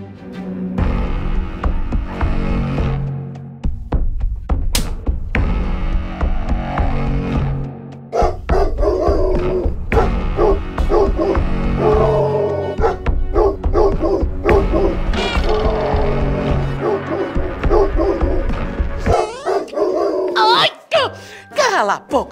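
A dog barks and yips repeatedly over steady background music and talking, the barks loud and close throughout.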